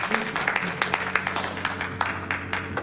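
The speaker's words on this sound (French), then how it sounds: "on t'applaudit bien fort, Angelica." Audience applause fills a theatre during a live stage show, dense, steady clapping with sharper claps popping out at a brisk rhythm over a low sustained hum.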